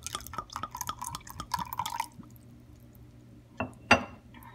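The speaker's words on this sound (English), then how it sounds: "I am going to do 1/4 cup of red wine vinegar." Red wine vinegar is poured into an oil-based tri-tip marinade, giving a trickling, dripping splash for about two seconds, then a pause and a couple of louder liquid splats and clinks near the end.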